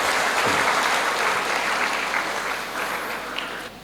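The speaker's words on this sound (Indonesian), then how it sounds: "tepuk tangan untuk SMP Negeri 2 Purworejo" Sustained applause from a hall audience of ninth-grade students at a motivation class in a hotel ballroom, a steady, full roar of clapping that tapers slightly toward the end, with no talk over it.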